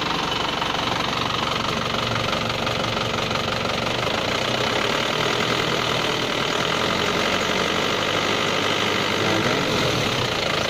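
Engine of a Panther car running steadily nearby while its radiator is flushed, a constant loud mechanical hum with a knocking clatter held throughout, as a person speaks over it.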